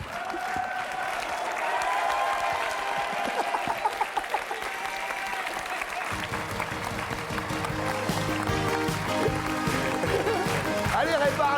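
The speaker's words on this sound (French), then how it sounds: "Je voudrais juste qu'on applaudisse Bertrand." On a French TV game show, the studio audience applauds steadily, and voices and music-like tones come in under the clapping during its second half.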